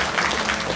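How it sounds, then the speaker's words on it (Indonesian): Dense applause from an audience at a Balinese drama gong performance at an arts festival, a steady wash of many hands clapping close and loud, with no gaps. "Tepuk tangan buat sanak-sanik."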